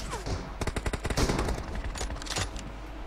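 Rapid gunfire bursts in PUBG Mobile during a team deathmatch, loud, close bursts of shots clustered over a few seconds, with a faint voice in the background.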